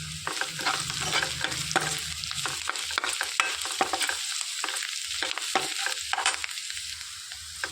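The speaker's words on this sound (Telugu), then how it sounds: "ఇందులోకి కొద్దిగా కరివేపాకు, కొద్దిగా కొత్తిమీర వేసుకొని వేయించుకోవాలి." Curry leaves and coriander fry in oil for a cauliflower pepper curry, a close, steady sizzle punctuated by repeated clicks and scrapes of a spoon stirring the pan.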